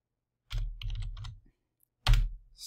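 Fastboot command typed on a computer keyboard during Android Marshmallow 6.0 flashing, heard as two short bursts of close, rapid key clicks separated by a brief pause.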